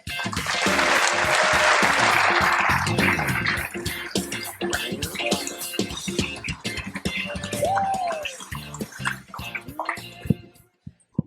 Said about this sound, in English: So please join me in a round of applause to thank President Salovey